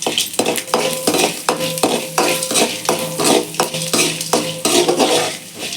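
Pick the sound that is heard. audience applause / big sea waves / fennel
fennel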